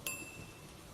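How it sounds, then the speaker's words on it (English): Single bell strike heard as a narration sound effect in an asylum, a faint, thin high chime that rings briefly and fades into quiet hiss. "The sound of a bell entered my ears and out the other side."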